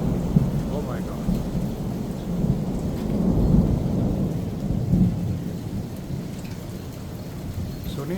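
Thunderstorm in Spring, Texas during a tornado warning, with heavy rain pouring steadily and low rolling thunder rumbling through it, no talking.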